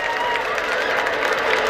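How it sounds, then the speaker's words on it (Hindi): A crowd at a school annual function claps steadily for a prize-winning student, a dense, even patter of applause filling the short moment without a break. "जरा इसके लिए जोरदार ताली बजाइए"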